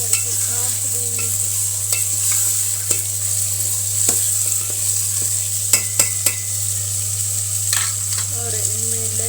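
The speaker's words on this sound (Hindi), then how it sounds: "इनमें अब टमाटर डाल देते हैं और साथ में सब्ज़ मिर्ची भी है। अच्छे से मिक्स करके ढाँप देंगे।" Tomatoes and green chillies are stirred as they fry in a pan, with a steady sizzle running throughout and occasional scraping and clinking of the spoon against the pan, close by, with no talking.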